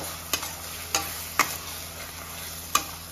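Masala of chilli powder frying in oil in a pan for Telugu-style mutton boti fry, a soft steady sizzle broken by four sharp scraping stirs of a spoon against the pan.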